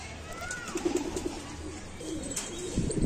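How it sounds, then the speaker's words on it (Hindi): Sialkoti pigeons kept by a breeder in Bhopal, soft low cooing amid a steady flock murmur and faint rustling, close by. "देखिए असल हालत में 35 वाले कबूतर"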